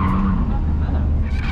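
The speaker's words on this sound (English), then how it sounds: "we switched from the Supra to the 330 to do a bit of handbrake drifting" A BMW 330 handbrake drifts with its rear wheels locked, giving a loud, close tire squeal and skid over the engine's roar.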